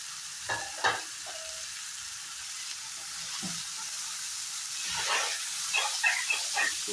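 Boiled carrots and small pieces of boneless chicken fry in a pan for chicken fried rice, with a steady close sizzle and hiss plus a few stirring knocks and scrapes.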